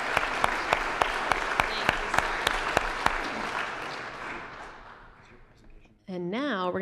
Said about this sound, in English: let's give him an extra round of applause